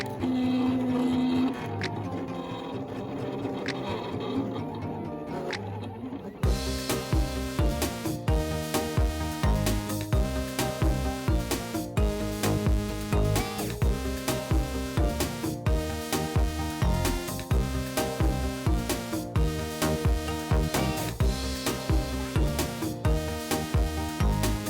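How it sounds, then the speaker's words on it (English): A Silhouette Cameo 3 vinyl cutting machine cuts a design, starting with a brief whir and then a loud, busy, printer-like stream of rapid motor buzzes and carriage shuttling in repeating bursts, close up. "we simply hit Send and the Silhouette goes to work. He's pretty noisy, but it is also incredible to watch."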